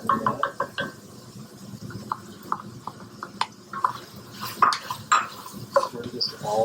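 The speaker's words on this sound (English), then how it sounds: "I'm going to put your peppers in that." Bell peppers dropping into a pan of browning sausages, giving a run of close clatters, knocks and scrapes of utensil against cookware as the pan is stirred, with a low sizzle underneath.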